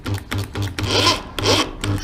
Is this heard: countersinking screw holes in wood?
yes